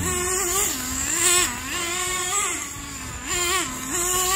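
A TG10 Mk.2 engine-powered RC car runs on a track, its loud, close high-pitched engine whine rising and falling repeatedly as it revs and eases off through the laps.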